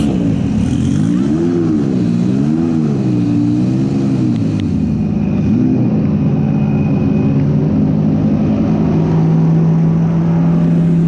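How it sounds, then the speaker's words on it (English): A race car in the Sebring paddock revs up and down in wavering pitches, then settles into a steady, loud drone as it pulls away. "as the car rolls off."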